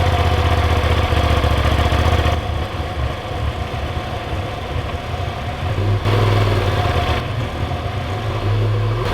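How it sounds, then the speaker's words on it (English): Polaris RZR Turbo S side-by-side engine held at full throttle, a loud, steady mechanical roar that stays continuous throughout with a brief dip in intensity midway. "That's full throttle right off the start."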